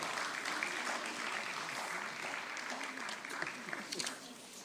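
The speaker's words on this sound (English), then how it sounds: "I'd like to request the audience to please clap your hands for Mr." Audience applause at an IT expo in Jaipur greets a company founder, a steady dense wash of many hands clapping through the clip with faint voices mixed underneath.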